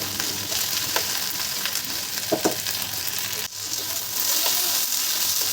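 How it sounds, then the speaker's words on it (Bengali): Okra and potatoes sizzling together in hot oil in a pan, a steady close crackle with a few soft knocks of a stirring utensil. "ভেন্ডিটা দিয়ে আলুর সাথে আমি 1 মিনিট মতন ভাজবো"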